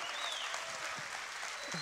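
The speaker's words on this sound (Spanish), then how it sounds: "Un aplauso para el flaco también." Steady applause from a crowd in a convention center, moderately loud and continuous, with a faint whistle-like tone rising briefly near the start.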